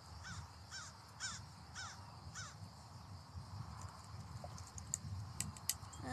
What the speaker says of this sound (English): Oh, there's a crow way out there on the pole.